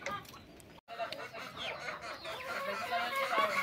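Chickens cluck and a big rooster moves about a rural Nicaraguan yard, with scattered soft clucks and calls at moderate distance over outdoor background, after a brief dropout near the start.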